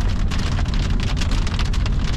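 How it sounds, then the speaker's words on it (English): Heavy rain mixed with big chunks of hail pelting down steadily on a boat out fishing on Lake of the Woods, a dense, continuous loud patter with no talking. "That's hail now. Some big chunks of hail."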